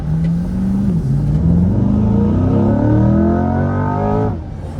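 A Chevrolet C8 Corvette, a mid-engine sports car, accelerates hard from inside the cabin, its engine note climbing steadily through the gears with a shift near the start and the revs dropping off at the end, loud and continuous.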